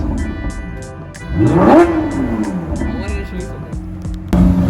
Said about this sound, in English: moving the cars to the front now